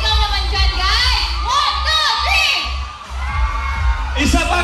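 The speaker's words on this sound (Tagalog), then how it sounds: "Isang sigaw naman dyan, guys!" A crowd of fans, including children's voices, shouts and cheers loudly and continuously, with excited whoops rising above the steady roar of the gathering.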